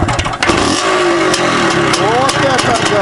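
An IZh motorcycle engine starts and revs, its loud mid-pitched running drone rising and falling in pitch over the whole stretch while voices talk over it.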